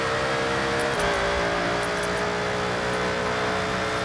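An engine-swapped Alfa Romeo Giulia GTAm in the racing game Forza Horizon holds a loud, continuous engine note with a slight pitch step partway through, steady and unbroken with no talking.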